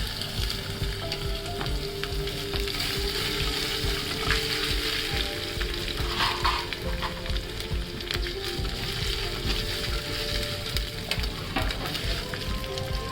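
Tomatoes fry and sizzle steadily in a pan while cooking an Odia ghanta tarakari made without onion or garlic. A continuous, close hiss crackles throughout, and no one speaks.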